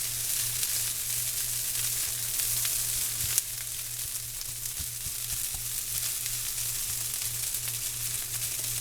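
Fried rice is stirred in a hot pan, giving a steady, dense sizzle throughout with faint scraping of the utensil and a low background hum.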